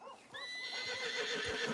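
A horse in Red Dead Redemption 2 gives a high, shrill whinny that wavers and trails off, with a few soft hoof sounds underneath.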